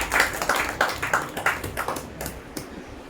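A church congregation claps along during a Tamil sermon, with a quick, steady run of bright hand claps at an even rhythm that thins out toward the end.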